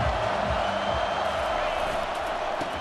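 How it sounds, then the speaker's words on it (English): A Clemson vs Arkansas college football stadium crowd roars in a steady, dense wall of cheering that fills the whole stretch without a break. "This crowd bringing an ear-splitting welcome to their visitors"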